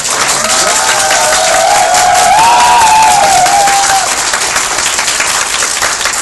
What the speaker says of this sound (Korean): 네, 앉아서 끌어보시겠습니다. 큰 박수로.